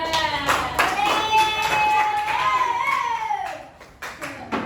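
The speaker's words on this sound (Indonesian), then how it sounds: "Ayo tepuk tangan untuk kelompok 2." Schoolchildren in an elementary classroom clap for a group of classmates, quick patterned claps sounding under loud children's voices that chant or call out together, with a few sharper claps toward the end.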